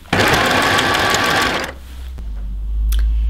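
A sewing machine stitching fabric for a draped cowl neck top runs at a fast, loud whirring buzz for about a second and a half, then stops, leaving a low hum and faint handling clicks.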